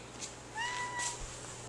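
A cat lets out a faint, short meow indoors in a kitchen, a brief rising tonal cry over quiet room noise, followed by a soft click.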